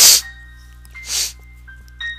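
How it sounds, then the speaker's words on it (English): A person lets out a sharp, close sneeze at the start, followed by a second breathy burst and a few faint sniffs and vocal noises. "I think I'm about to sneeze"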